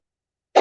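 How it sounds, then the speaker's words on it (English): A single short cough, close and fairly loud, bursting in after silence at the very end and cut off abruptly. "my cough gets worse"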